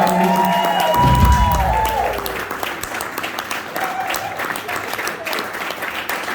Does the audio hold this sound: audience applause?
yes